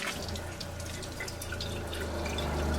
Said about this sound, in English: my water pump is so angry with me right now